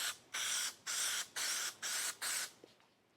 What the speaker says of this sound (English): So we can spray this on here.